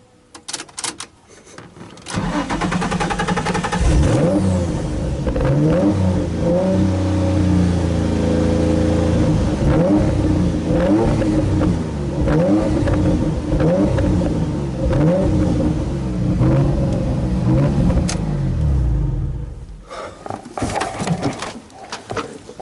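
A flooded Nissan 350Z engine, after sitting over a year, revs up and holds, its pitch rising and falling through repeated throttle blips, loud and close, then cuts off near the end.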